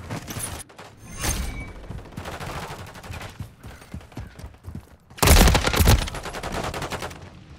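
Video game gunfire during a firefight, close bursts of shots and mechanical weapon clatter scattered throughout, with one very loud burst near the end and no speech.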